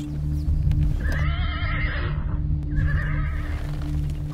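A horse neighs twice, two drawn-out whinnies close by over a steady low rumble, with faint hoof clops in the background.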